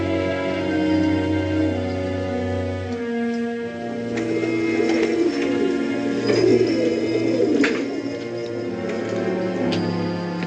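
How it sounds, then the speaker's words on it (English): Pigeons coo softly and repeatedly in a low, throaty murmur, fairly close, blended with a steady background hum of an old film soundtrack. "Pigeons and all, huh?"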